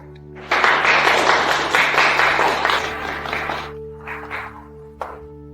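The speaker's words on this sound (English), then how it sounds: "let's welcome the couple with a round of applause" Wedding guests clap for the couple's entrance, a loud burst of applause that rises abruptly, holds for about three seconds, then thins to a few scattered claps over a steady background tone.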